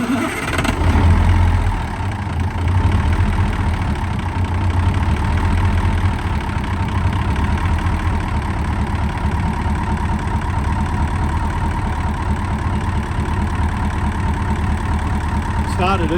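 A Cummins V8 diesel engine in a Ford truck cranking and running near at hand, a rough, steady rumbling idle with a deeper low drone early on, alone without talk.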